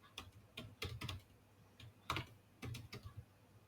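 Computer keyboard keys clack in quick irregular bursts as code is typed, close and fairly quiet, with brief pauses between clusters of keystrokes.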